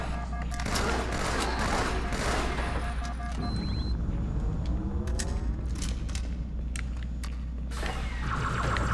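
Rapid gunfire from the Halo video game rattles in dense bursts over continuous loud game ambience, with crackling shots and booms while players talk quietly beneath.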